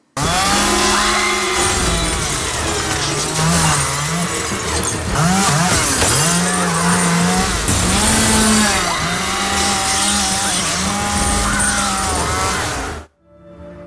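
Thick, buzzing electric guitar riffs through a Boss HM-2 distortion pedal, chugging loudly and continuously, with sustained saw-like low notes, then cutting off abruptly near the end.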